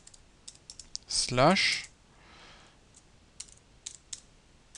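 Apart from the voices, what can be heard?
typing on a computer keyboard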